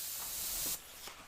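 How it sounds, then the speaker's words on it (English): Airbrush lightly spraying paint onto a skull, a soft close steady hiss that cuts off abruptly partway through, followed by a faint short puff. "I'm barely spraying."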